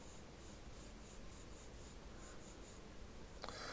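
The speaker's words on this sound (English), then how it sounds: "I'm using the side of my pencil here" Side of a pencil shading across paper while sketching a figure's sweater, a steady close scratchy rubbing that runs continuously without talk, with a brief louder stroke near the end.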